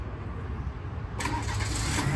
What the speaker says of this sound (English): This can remote start from the factory.